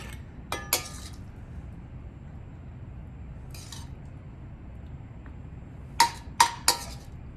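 A spoon clinks against a bowl while cavatelli pasta is plated: a few sharp metallic chinks near the start, one in the middle and a quick cluster of three at the end, with near silence between.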